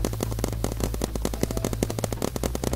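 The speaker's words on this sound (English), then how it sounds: "She shot me through the fence." Rapid paintball gunfire in a Roblox Nuketown paintball match, a dense, loud burst of quick repeated shots that keeps going without a break over a low constant game hum.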